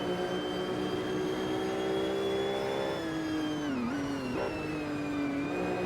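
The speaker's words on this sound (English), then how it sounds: "V12 sound good for all the supporters watching us through there" The V12 engine of a Mercedes CLK GTR race car drones loudly and continuously on the Nürburgring track, its pitch holding steady, then dipping briefly and recovering as the driver lifts and reapplies throttle.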